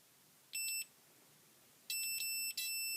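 A multimeter on its continuity setting beeps as wires in a burning pink electronic cake Triffid short together: one short high tone, a pause, then a longer beep broken into several quick bursts, clear over a quiet background.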